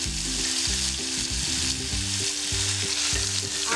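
Onion paste fries in hot oil with curry leaves for a masala fish curry, a continuous loud sizzle over melodic background music, with no talking.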